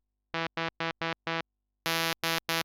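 Cubase Retrologue synthesizer playing a series of short, clean sustained notes: five quick staccato hits, a pause, then three brighter, louder notes, with no talking.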